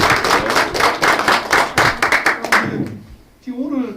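Audience clapping for a former Prime Minister at a People Power Party members' tea meeting in Dongnae, Busan, brisk rhythmic claps for about two and a half seconds, then fading before a voice speaks.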